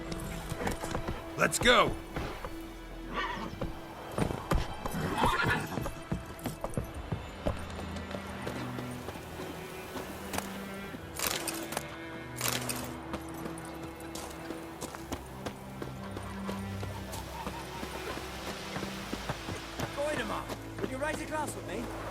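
Roach, a horse in The Witcher 3, gallops with a rapid, rhythmic clip-clop of hooves under in-game music and ambience, while someone talks over it at times.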